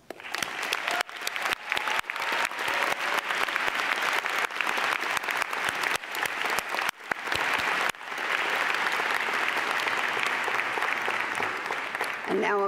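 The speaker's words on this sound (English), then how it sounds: "you deserve our applause" Commencement ceremony audience applauding the guests, a sustained roar of many hands clapping from a large crowd, with a brief dip before it swells again.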